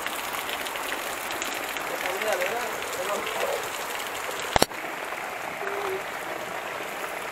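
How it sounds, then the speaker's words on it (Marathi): Heavy rain pours in a dense, steady hiss throughout, with a single sharp knock just past the middle, and voices faint beneath the downpour. "मोठा पाऊस आलेला आहे."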